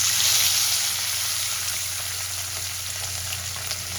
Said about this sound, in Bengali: এবার আমি এক এক করে মাছগুলো তেলে দিয়ে